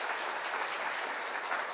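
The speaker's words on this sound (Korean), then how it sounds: "박수해 주시고요" A congregation claps in church during a worship service, a brief dense burst of steady applause heard at moderate distance with no voices on top.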